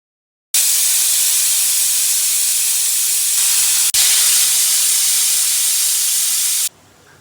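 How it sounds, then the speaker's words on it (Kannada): A pressure cooker cooking moong dal pulao whistles, hissing loudly and continuously for several seconds, with a brief break midway, then cuts off abruptly. "ಎರಡು ವಿಜಿಲ್ ಕಂಪ್ಲೀಟ್ ಆಯ್ತು ಆಫ್ ಮಾಡ್ಕೊಳ್ಳಿ"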